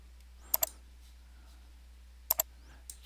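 Computer mouse clicking through Excel menu options: two pairs of crisp, close clicks, one pair early and one later, over a quiet background.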